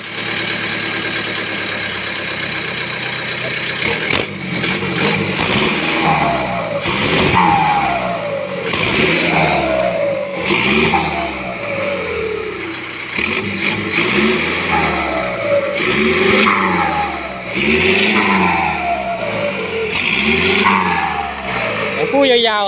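Turbocharged diesel engine fitted to a rice-paddy tiller, started and revved repeatedly in a workshop setting, rising and falling in loud pulses alongside a steady idle; someone talks over it throughout.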